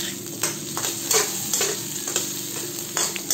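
Sliced potatoes and tomatoes sautéing in a pan for a mung bean and pork chop dish: a steady close sizzle broken by repeated scraping stirs, with no talking.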